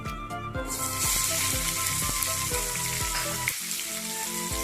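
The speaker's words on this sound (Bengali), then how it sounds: "এবার এর মধ্যে দেবো কুচনো পেঁয়াজগুলো" Chopped onions hit hot oil and fry with a loud, dense sizzle close by, over a steady rhythmic hum from below, without any talking.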